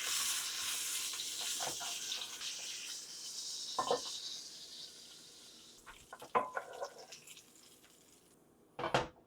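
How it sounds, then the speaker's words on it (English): Salmon searing in olive oil in a pan, a bright hissing sizzle that is loud at first and gradually fades, broken by a few sharp knocks and clatters of cookware near the end. "So we have some olive oil here. Alright, so in goes the salmon."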